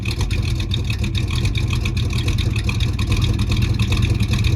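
A 1973 Ford Mustang Fastback engine, just revived after 30 years rotting in a yard, idles steadily with a low, rough, pulsing rumble close by and no talk over it.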